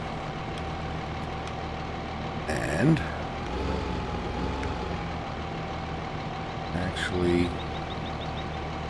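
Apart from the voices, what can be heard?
small tractor engine running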